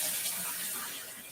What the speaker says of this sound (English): The last time washing my hands,